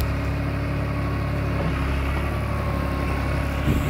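A John Deere 5055E 55 hp turbo diesel tractor engine runs steadily at close range, a continuous loud, even rumble without breaks.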